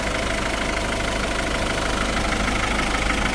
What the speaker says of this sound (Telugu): సో ఇంజిన్ సౌండ్ కూడా మీరు గమనించవచ్చు